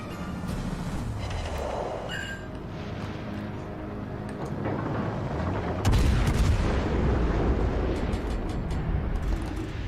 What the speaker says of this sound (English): let's go ahead and shoot the Sommers